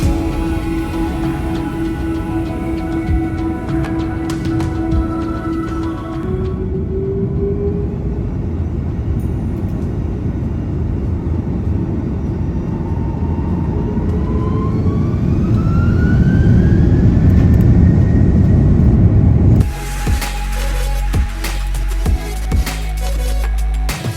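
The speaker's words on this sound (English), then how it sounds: "we finally left the stand for a flight to Margarita." A Plus Ultra airliner taxiing away from the stand for a flight from Warsaw to Porlamar, heard from inside the cabin as a steady engine roar and whine, with a pitch rising midway and a clunk near the end.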